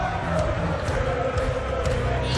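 A large darts crowd roars and chants at the World Darts Championship final after Michael van Gerwen, the Green Machine, wins the title; a dense, steady wall of cheering with no let-up.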